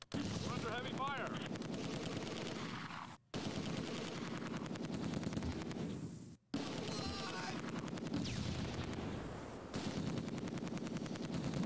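Dense gunfire and machine-gun bursts come from the World War II strategy game Close Combat 2: A Bridge Too Far, with rapid rattling volleys, loud and continuous across the battle and broken by brief gaps.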